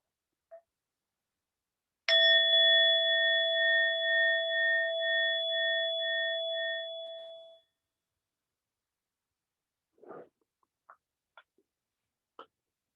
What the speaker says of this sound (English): And we'll start with one sound of the bell.